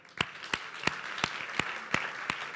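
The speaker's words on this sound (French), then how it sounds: "On peut les applaudir, les vaillants héros." Applause at a youth church event in Bordeaux honoring volunteers, with soft crowd clapping underneath and several sharp, evenly spaced loud claps standing out in a steady rhythm.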